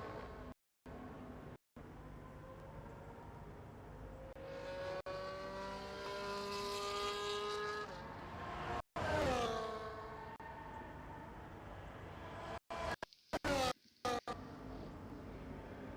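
Race cars in the F1 24 video game at a virtual Australia round, with engine whines rising and falling in pitch as cars accelerate and pass, interrupted by brief dropouts and a sharp burst near the end, with no talk.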